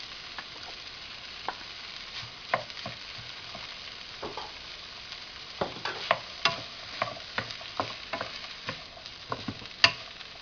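Rice being stirred and fried in a pan for fried rice with beans and vegetables, a steady sizzle broken by frequent scraping clacks of a utensil against the pan.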